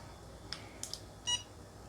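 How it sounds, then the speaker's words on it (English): A WE.LOCK SECB smart lock chirps after batteries are inserted: a few short, quiet electronic blips followed by a slightly longer tone, close and faint against a quiet room. "Okay, so I did hear a beep, so that means it's working."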